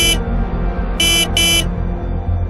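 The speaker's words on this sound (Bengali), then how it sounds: "তাই সে কয়েকবার মোটরসাইকেলের হর্ন বাজাল" A motorcycle horn outside a house's closed iron gate sounds in three bursts, one short honk, then two longer blasts close together, loud and near over a constant engine-like hum.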